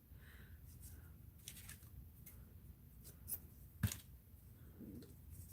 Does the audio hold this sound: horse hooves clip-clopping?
no